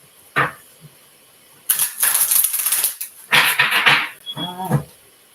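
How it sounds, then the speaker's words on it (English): Tarot cards are shuffled in bursts of papery riffling and flicking, separated by short pauses, close and fairly loud. "One more shuffle."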